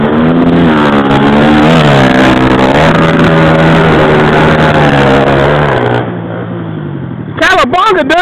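Hill climb vehicle engine revving loud and close, its steady harmonic drone rising and falling over several seconds before cutting out, followed by a brief burst of shouting.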